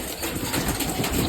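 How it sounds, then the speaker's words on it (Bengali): Pigeons crowding in to bathe, with a dense flurry of flapping wings and splashy rustling, close and fairly loud throughout a short burst. "এখানে আমার কবুতর গোসল করার জন্য পাগল হয়ে গেছে, সবগুলো কবুতর এসে পড়ছে।"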